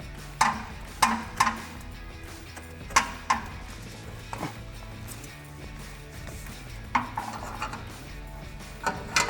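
A ceramic black Borla exhaust tip is twisted and wiggled onto the painted exhaust pipe of a Jeep Gladiator JT, making scattered close metallic scrapes and clunks with quiet pauses in between.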